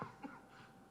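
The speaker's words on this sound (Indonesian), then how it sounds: "Lagi batuk." A single cough in a courtroom hearing, one short burst at the start followed by a quieter trailing sound against a low room hum.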